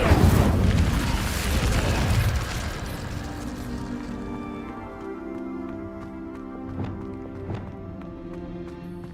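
A fiery Incendio spell blast from Hogwarts Legacy erupts with a loud roaring whoosh that fades over a few seconds, leaving a ringing magical shimmer and soft tonal echoes.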